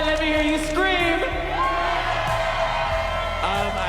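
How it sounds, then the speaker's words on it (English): Pride event crowd whooping, screaming and cheering, loud overlapping voices rising in rising and falling yells, dense and close throughout. "let me hear you scream"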